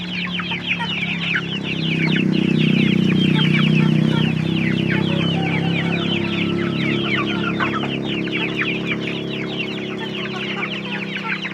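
A flock of chickens clucks continuously in a coop built above a fish pond, dense overlapping calls at close range with a low hum underneath.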